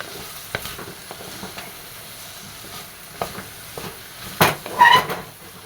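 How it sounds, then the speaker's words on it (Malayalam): Bitter gourd curry simmering in oil in a pan gives a soft, steady sizzle, with a few sharper stirring clinks and scrapes near the end. "ഈ പാവയ്ക്ക ഒന്നിതിൽ തന്നെ കിടന്ന് നന്നായിട്ടൊന്ന് വേവണം"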